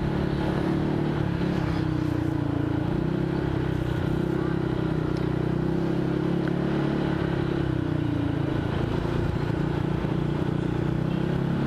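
A motorcycle fitted with a racing exhaust rides along, its engine a steady low drone mixed with constant wind rush, with no clear revving peaks and no talk audible over the noise.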